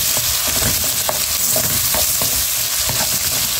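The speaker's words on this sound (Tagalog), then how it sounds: "nagigisa tayo dito ng pangsahog natin sa pinakbet" Ingredients for pinakbet sizzle loudly in hot oil in a pan, with a broad, constant frying hiss and frequent scraping stirs of a utensil; no one speaks.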